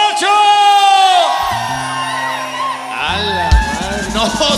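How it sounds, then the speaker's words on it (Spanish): At a live Mexican regional concert, crowd members let out long, rising-and-falling gritos and whoops, loud and overlapping, with sustained cries and a brief shout near the end. "¿Dónde está el grito de los borrachos?"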